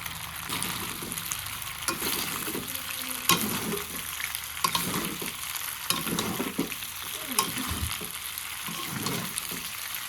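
Chopped egg fries in a pan, giving a steady sizzle broken by repeated scraping and stirring strokes from a utensil, close and continuous, with no talking.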